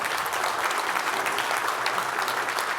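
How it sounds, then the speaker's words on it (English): Conference audience giving a quick round of applause for a day's presenters, steady continuous clapping from a moderate crowd, even in level from start to finish, no voices on top. "quick round of applause for day one"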